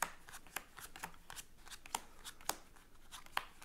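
Playing cards are dealt into six piles on a table for a card trick, giving a run of light, quick card flicks and slaps at a steady pace, heard up close with no voices.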